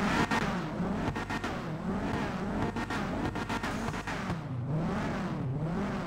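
Modded Subaru engine and exhaust sound in GTA 5, a loud continuous revving drone rising and falling in pitch as the car accelerates and shifts, close and steady throughout with no talking.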